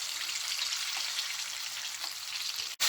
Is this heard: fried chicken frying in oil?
yes